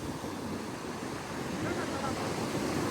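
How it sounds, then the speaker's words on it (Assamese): Sea waves wash steadily onto the shore at high tide, a continuous broad roar close by with wind buffeting the microphone throughout. "খুব ঢৌ আছে তাৰমানে ইয়াত"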